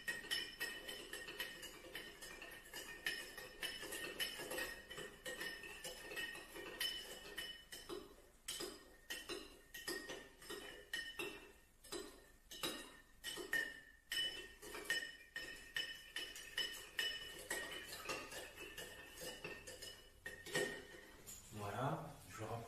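Spoon clinking and stirring liquid in glasses during a colorful chemistry cocktail demonstration, with repeated light glassy chinks and scrapes in an irregular rhythm over faint background noise, a voice speaking occasionally.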